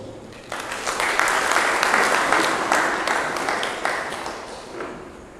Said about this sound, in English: we once again welcome Dr. Kuruvilla with a round of applause